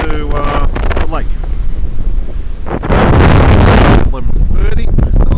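Rough wind by a lake at Loch Sport buffets the microphone in heavy gusts, swelling to a loud roar midway, while a person talks underneath.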